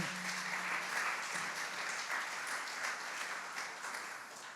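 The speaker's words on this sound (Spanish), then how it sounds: "Dan un aplauso al Señor, por favor, el día de hoy" A crowd claps in sustained applause during a church sermon, dense and even, fairly distant in a large room, with no speech.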